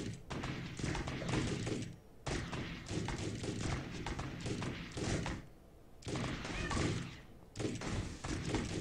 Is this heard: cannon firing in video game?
yes